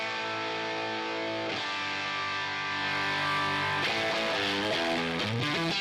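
Electric guitar through a Line 6 Helix model of a 1969 Marshall Plexi amp rings out in chords with a thick, slightly distorted tone, then shifts into quicker picked notes toward the end.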